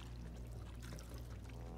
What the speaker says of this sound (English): It seems to be leaking some water